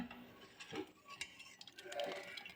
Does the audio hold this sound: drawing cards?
no